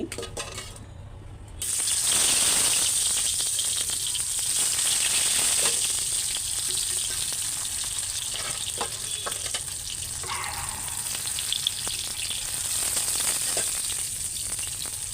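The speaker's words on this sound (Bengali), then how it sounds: "এখানে তেলটাও গরম হয়ে গেছে পটলগুলি ভাইজা" Spiced pieces of pointed gourd (potol), coated in turmeric, chilli paste and salt, fry in hot oil with a sudden onset of loud crackling sizzle that continues steadily, with occasional clinks of a utensil.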